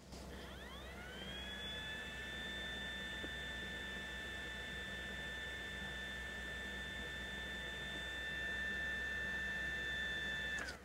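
A DecoKee M.2 enclosure's small cooling fan, running steadily at 15,000 RPM while plugged into an iPhone, gives off a constant high-pitched whine over a low hum, holding evenly throughout with no talking.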